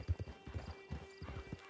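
A horse walks at a steady clip-clop in Red Dead Redemption 2, the hoofbeats close and fairly quiet, falling in uneven pairs over a low steady hum with no talk.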